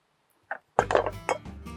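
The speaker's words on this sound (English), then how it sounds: "I'm going to pop in my chopped aubergine" Chopped aubergine drops into a bowl already holding tahini and lemon: a small soft knock, then a louder wet tumble with light clinks against the bowl, close and fairly quiet.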